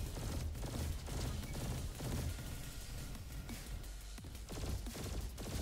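A gun in the video game Roboquest fires a dense, continuous barrage of rapid shots, with repeated impacts and crashes layered over a steady roar of game noise.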